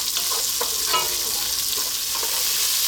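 Red lentils and onion cooking in a pan over medium heat give a steady, close sizzle, broken by a few soft scraping stirs, with no talking.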